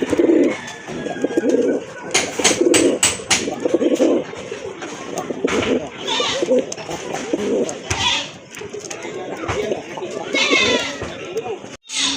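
Soft, low coos from a male pigeon recur close by, mixed with other bird chirps and people talking in the background.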